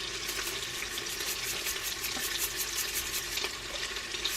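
Minced onion frying in butter with garlic in a pan, a steady close sizzle with faint crackles running throughout.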